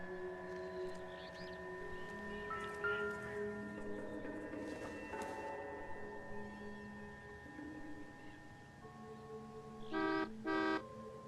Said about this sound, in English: I'll take that honking as a sign to stop